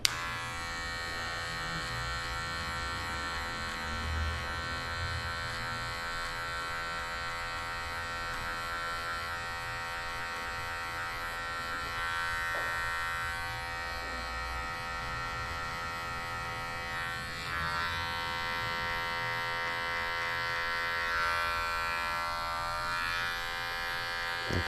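Electric hair clipper cutting a fade at a barbershop, a steady close buzzing hum running throughout with slight shifts in pitch and loudness as the blade moves through hair, no talk.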